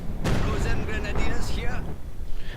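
Heavy mortar and artillery fire in the strategy game Company of Heroes 2 booms with a deep blast, followed by rumbling impacts under a commentator's continuous talk.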